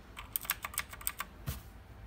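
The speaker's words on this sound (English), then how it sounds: "Then we have my custom keyboard" Quick, light keystrokes on a custom computer keyboard at a gaming desk, a short uneven burst of clicky taps followed by one heavier thump, close and quiet.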